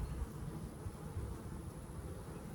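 Honeybees hum around a growing backyard hive, a low, steady buzz that stays faint and continuous throughout.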